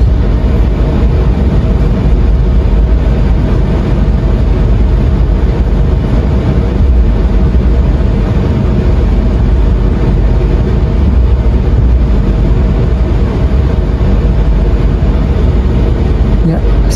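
A long passenger train entering track 3 at Wates Station in Indonesia rumbles loud and close, a continuous heavy roar of wheels and carriage noise that holds steady throughout.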